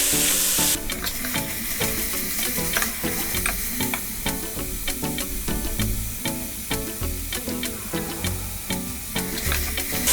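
Carrots fry in a pan for a South African chakalaka relish, giving a continuous close, bright sizzle dotted with sharp crackles and the scrape of stirring throughout, with no voices.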